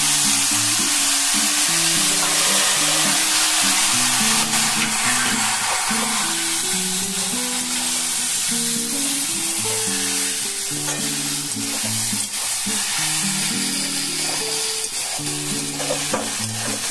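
Boiled ridge gourd drops into hot oil with cumin and fries, a loud, dense sizzle that runs steadily throughout, with light stirring and a low cooking tone underneath.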